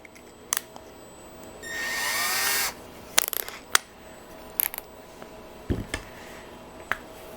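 Power drill boring into a J3 sprocket in a workshop, one sustained whirring burst of about a second amid scattered clicks and tool handling.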